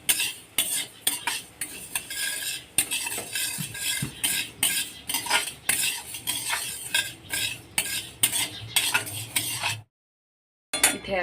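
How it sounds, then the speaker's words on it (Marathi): Urad dal dry-roasts in a pan for metkut while a spoon stirs and scrapes it in repeated rhythmic bursts. Clinks of metal on the pan come through, then a short silence near the end. "हे आता उडीद डाळ पण घालून घेतलेली आहे आणि ती पण भाजून घेते."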